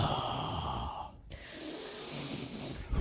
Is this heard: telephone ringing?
no